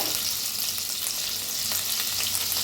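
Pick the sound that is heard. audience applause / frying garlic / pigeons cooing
frying garlic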